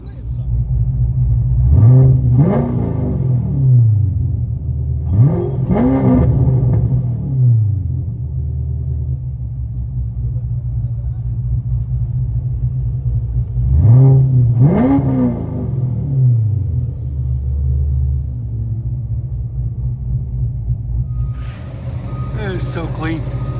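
A cammed 560 hp Chevy Corvette Stingray with a 6.2L LT1 V8, headers and straight pipes revs hard inside a garage. Three loud rising blips stand out over a deep, lumpy idle rumble.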